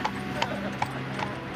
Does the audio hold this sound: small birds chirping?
no